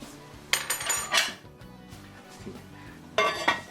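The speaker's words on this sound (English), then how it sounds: "Get our pot on back in here" A heavy pot roast pot is slid back into the oven, with two bursts of metallic clanking and rattling of pot, lid and oven rack, close and fairly loud, separated by a quiet pause.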